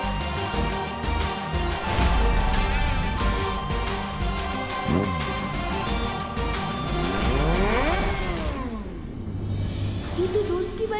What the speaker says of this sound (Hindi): ये तो दोस्त की बाइक की ही आवाज है।